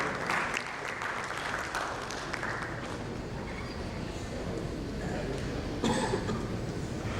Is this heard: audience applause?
yes